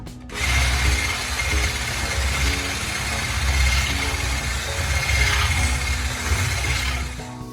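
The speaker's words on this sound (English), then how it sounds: "I might need to grab my mixer. Let's start mixing." An electric hand mixer whirs steadily throughout, beating sugar with tiramisu ingredients in a home kitchen, a continuous mechanical drone with a low rumble, close and fairly loud, with no talking.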